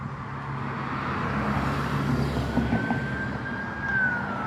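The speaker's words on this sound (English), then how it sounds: "Y'all hear the sirens?" Emergency vehicle sirens wail from a distance under a steady low traffic rumble, with a rising tone sweeping through near the end.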